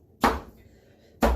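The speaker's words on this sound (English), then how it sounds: "you just chop it into smaller pieces" Two sharp knife chops on a cutting board, about a second apart, each a loud close thud, with quiet room tone between them.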